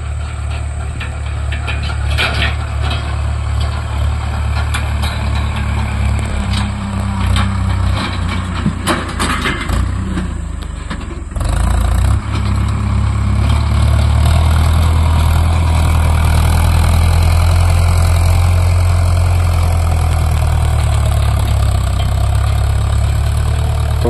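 A Farmtrac 6055 tractor fitted with a dozer blade works nearby, its diesel engine droning loudly and steadily, then briefly dipping and surging back as it reverses at full speed.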